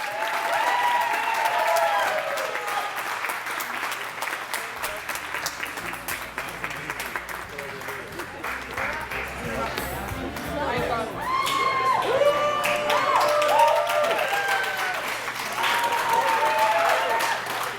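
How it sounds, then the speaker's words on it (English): An audience at a celebration gives a long round of applause with cheers, whoops and children shouting mixed in, while voices chatter beneath the clapping throughout. "Round of applause, please"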